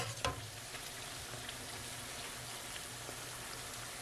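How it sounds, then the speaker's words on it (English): Steady crackling sizzle of yeasted beignet dough deep frying in hot oil, fairly quiet and continuous, with a brief louder pop near the start. "I want you guys to see how quickly these things fry out."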